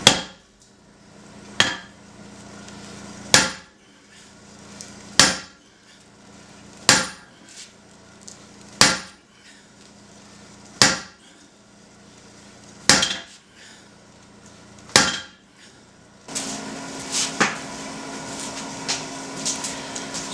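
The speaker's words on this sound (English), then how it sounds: "This 8-pound sledgehammer is definitely starting to wear on me." An 8-pound sledgehammer drives steel felling wedges into wood, giving about ten sharp, evenly spaced metallic strikes roughly every second and a half, followed by lighter scraping and knocking.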